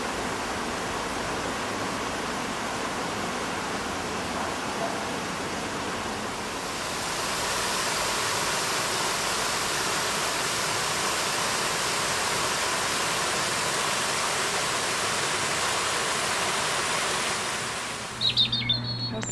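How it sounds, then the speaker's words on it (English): Water pours steadily over a river weir and waterfall in Barrowford Memorial Park, a constant broad rushing roar that swells slightly partway through and continues alone without talk. "now that you've seen the weir, the waterfall and the fish pass"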